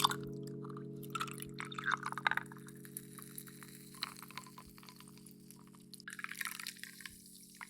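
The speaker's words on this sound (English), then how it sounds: "Top it up with some Indian tonic water" Indian tonic water pours into a vodka coffee cocktail, a quiet trickle with bubbly drips and fizz, soft and close throughout, swelling again toward the end.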